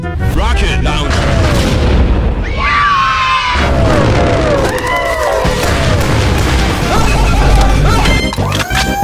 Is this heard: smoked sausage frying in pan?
no